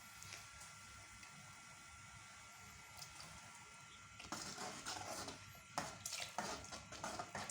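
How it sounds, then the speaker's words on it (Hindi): A spoon stirs custard mixture through boiling milk in a pot, giving soft, irregular scraping and clinking against the pot that gets louder and busier over a faint steady background. "अब जो है चम्मच को हम मुसलसल हिलाते रहें ताकि जो है हमारा कस्टर्ड गाढ़ा हो जाए।"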